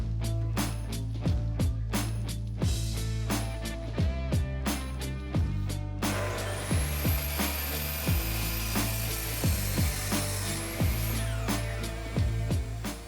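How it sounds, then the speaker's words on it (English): A miter saw with its guard stuck open cuts wooden stretchers for an assembly table to length, running with a loud high whine through the cut over steady workshop noise and repeated close knocks and clunks of wood being handled. "I grab the short side stretchers of my assembly table and I cut them down to their final length"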